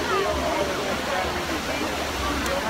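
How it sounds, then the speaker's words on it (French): Steady rushing and splashing of the Trevi Fountain in Rome fills the air continuously, loud and close, with a crowd murmuring underneath. "la fontaine de Trévi est la plus célèbre de Rome"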